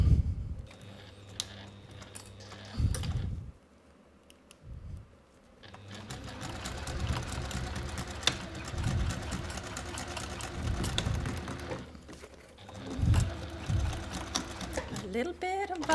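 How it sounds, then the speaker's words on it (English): A sewing machine stitches a double-zip bag in bursts of rapid mechanical whirring, broken by short pauses, close and clear throughout. "Now we can sew this."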